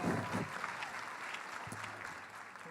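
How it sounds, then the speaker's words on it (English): Audience applause fills a youth leadership presentation at an education conference, a steady wash of many hands clapping throughout, moderately loud and continuous, with a faint voice or two underneath near the start. "Let's give them another round of applause."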